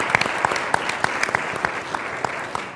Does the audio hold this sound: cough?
no